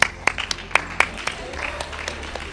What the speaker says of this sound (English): Can we applaud all the answers that are coming in,